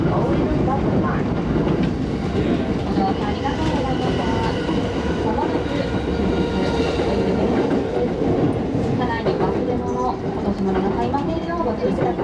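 A Yamanote line train runs through Shinjuku station in Tokyo with a loud, steady rumble and rhythmic wheel clatter that continues without a break.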